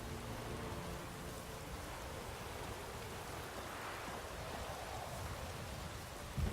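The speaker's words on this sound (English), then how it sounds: "The storm, damn it." Steady rain from a storm in The Witcher 3 hisses continuously at moderate level, a broad wash of drops with a low rumble beneath and a slight swell midway.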